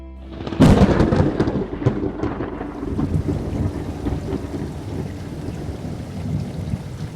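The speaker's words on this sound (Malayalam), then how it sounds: "നല്ല മഴ വരുന്നുണ്ട്." Heavy rain pours down steadily while a loud thunderclap breaks near the start, followed by rolling rumble and a continuous dense rain wash.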